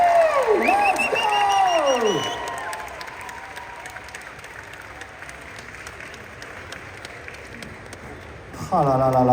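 A Paris convention audience at a Back to the Future panel with Christopher Lloyd cheers with loud whoops and shouts over the opening seconds. Sustained, dense applause follows and fades slightly before rising again at the end.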